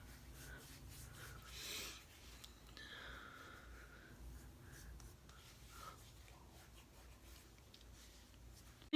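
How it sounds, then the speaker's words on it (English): Hands rub primer into facial skin with soft, continuous friction and faint brushing, close and quiet, with a few sniffs and no speech. "I just use my hands and rub the primer deep into my face"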